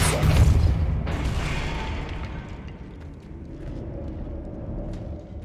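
A Depulso spell cast in Hogwarts Legacy bursts out as a loud, booming whoosh at the start, then fades into a softer rumbling tail.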